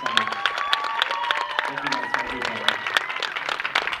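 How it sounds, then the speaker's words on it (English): Audience applause for graduating seniors at a college a cappella final concert at SUNY Geneseo, steady dense clapping with some cheering, mixed with overlapping voices and a sustained sung or hummed tone throughout. "Round of applause for all our graduating"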